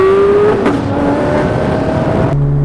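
An aftermarket Ferrari F430 with a 600-horsepower engine accelerates hard from inside, a loud, steady engine roar with tones climbing through the gears and a shift near the end.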